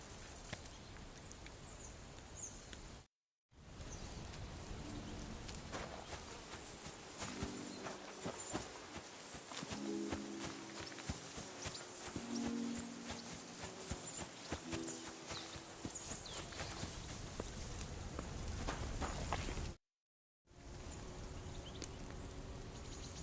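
Horse hooves clip-clopping on cliffs and rocky paths in the medieval game Kingdom Come Deliverance 2, a steady rhythmic patter under game ambience with a brief cut of silence near the start and end.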